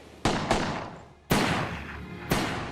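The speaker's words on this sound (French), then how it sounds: "Archer entend de nouveaux coups de feu en provenance de la cabine du navire." Four sharp gunshots crack out in quick succession, two close together, a pause, then two more, each with a decaying tail, fired inside a ship's cabin at sea.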